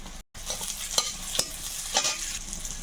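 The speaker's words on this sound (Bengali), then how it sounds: "তেলের মধ্যে একটু শুকনো লঙ্কা একটু পেঁয়াজ কুচি একটু পাঁচ ফোড়ন" Dried red chillies, chopped onion and panch phoron frying in hot oil, a close crackling sizzle with several sharp spatula scrapes and clicks, plus a brief dropout near the start.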